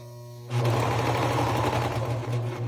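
A serger fitted with an elastic foot runs fast and loud, its dense rapid whir starting abruptly after a low background hum and continuing steadily.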